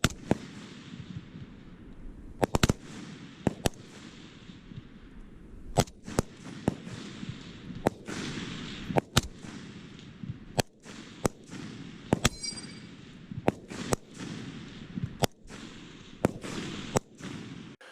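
Repeated M1 Garand rifle shots at an outdoor marksmanship match, sharp cracks fired irregularly at about one to two second intervals, some near and loud and others fainter, as if from several shooters along the firing line.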